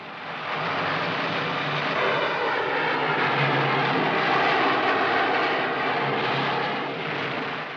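Jet planes fire missiles at oil drums in the 1961 film Mothra, heard as a loud, steady engine roar that swells and holds for several seconds before easing slightly, with no other sounds over it.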